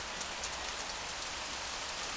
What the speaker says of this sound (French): Cette pluie est le début d'une ère d'abondance qui vient de commencer.